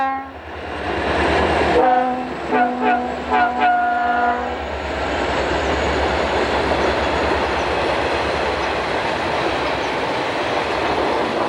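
Diesel freight train AL-18 rolls eastward through Florence, sounding a loud series of horn blasts near the start before the steady rumble and clatter of passing cars carries on to the end.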